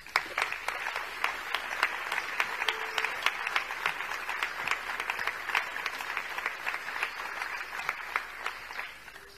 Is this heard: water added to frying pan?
no